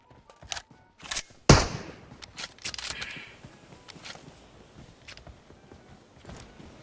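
Gunshots in the mobile battle royale game PUBG Mobile: one sharp, loud crack stands out among a few lighter clicks and scattered small game sounds, with no talk.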